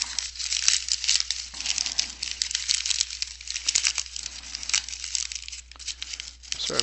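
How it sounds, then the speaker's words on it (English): A sheet of dull-finish paper crumpled by hand into a ball, giving dense crackling and crinkling bursts that run steadily and close up throughout. "Crumple it up."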